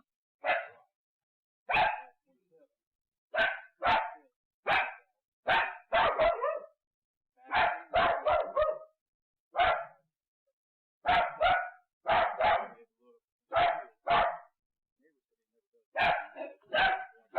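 A dog barks repeatedly in loud bursts, fairly close, in short clustered volleys separated by brief silent gaps, indoors at a house during a police walkthrough.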